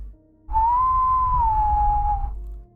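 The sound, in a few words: three-note whistling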